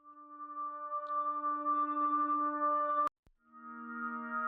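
A Ghost Voice synth holds a sustained airy harmonic tone that swells gently, cuts off sharply with a click, then returns on a lower pitch, clean and alone.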